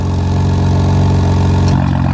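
A BMW G82 M4 with an aftermarket exhaust idles with its valves open, a loud, deep, steady rumble close by that cuts off abruptly near the end, leaving a quieter residual drone.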